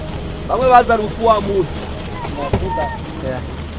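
Rain falls in a steady hiss in Burundi while a person talks over it in short phrases.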